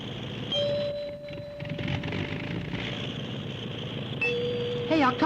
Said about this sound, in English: I strike a variety of notes on the musical glasses